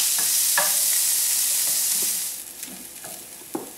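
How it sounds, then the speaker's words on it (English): Chopped onion sautéing in a pan, a steady broadband sizzle that stays loud and close for about two seconds, then eases to a quieter hiss with a few faint stirring clicks and scrapes. "we will put our whole onion that's been chopped into the pan, and we're going to saute it for about 8 minutes"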